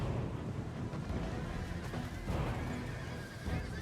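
Horses of horse archers in Rome 2: Total War, a loud whinny and neigh with trampling hooves over windy battlefield noise, fairly close.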